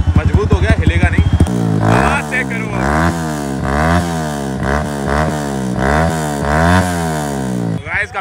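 Motorcycle with a newly fitted, cut exhaust revving hard, a rapid run of sharp rising and falling revs in a steady pattern, loud and close, with a brief voice at the start.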